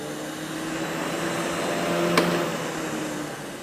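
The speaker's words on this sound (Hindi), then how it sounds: "यहाँ पे कोई शोर शराबा या वाइब्रेशन नहीं है, बड़ा सुकून से ये जूसर चल रहा है" A Panasonic MJ-M176P juicer runs with a smooth, steady motor whir and faint hum, fairly quiet and constant throughout, with one brief click about two seconds in.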